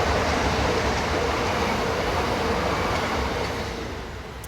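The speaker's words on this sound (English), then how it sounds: "Another train." A train rumbles past nearby with a loud, steady roar of wheels and carriages that fades slightly toward the end.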